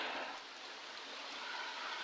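Morning rain falling steadily after a night of rain beside a home with brick and plastered walls, a soft even hiss of drops, faint and continuous.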